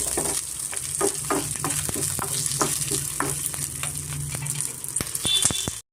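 Garlic frying in oil over a medium flame for drumstick leaf chutney, a close, continuous sizzle broken by a string of sharp stirring clicks and scrapes, ending in a final rattle.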